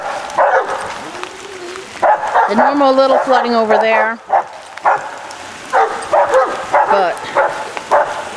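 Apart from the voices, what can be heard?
dogs barking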